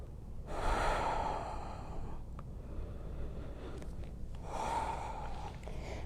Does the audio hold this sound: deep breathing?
yes